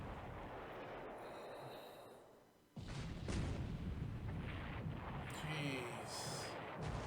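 Heavy naval guns of a warship fire in a World War II strategy video game, a loud sustained booming rumble with a sharp onset midway, continuing with repeated blasts over dense low noise.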